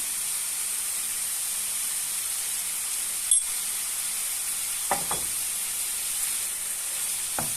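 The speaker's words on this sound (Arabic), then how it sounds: "ونحاول نحركها وما توقفش تتحرك باش الكفته ديالنا ما تلصقش في المقله" Minced kefta meat sizzles steadily in a hot pan, with a few scraping stirs breaking through the constant frying hiss.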